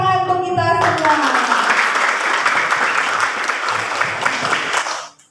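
A class in a teaching-practice lesson bursts into lively applause right after a brief spoken line, clapping densely for about four seconds before it stops abruptly.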